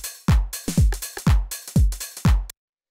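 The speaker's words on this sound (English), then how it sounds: "I call this 909 because these are all 909 drums" Roland 909 drum machine samples for a Chicago deep house track: a pattern of five punchy kick-led hits with snappy rim shot, snare, clap and hi-hat transients, played cleanly with no talk before cutting to silence.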